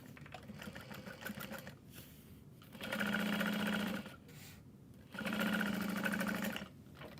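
A sewing machine top stitching fabric for a tote bag runs in two bursts of rapid, even whirring, each about a second long, separated by quieter pauses with faint background hum.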